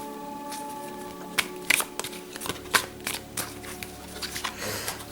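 Tarot cards being drawn and laid out on a table, a series of sharp card snaps and papery slaps at irregular intervals, close and fairly crisp.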